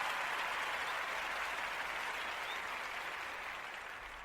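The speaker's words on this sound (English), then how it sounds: "I want to just give a round of applause for me and my listeners just for rocking with me." Round of applause on a podcast, a dense, even wash of clapping that sounds like a canned or distant crowd, steady and then slowly tapering off.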